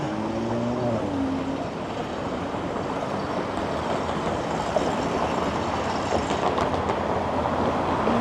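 A subway train rumbles steadily through an underground station, a continuous low roar with some squealing tones early on and faint high screeches near the end.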